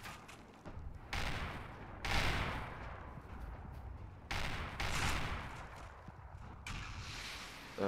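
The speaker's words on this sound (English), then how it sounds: "Someone's shooting at me." Gunfire in the survival game Rust during a battle royale match, heard as bursts of distant, muffled shots and rumbling volleys in several separate waves, quiet throughout with no voices.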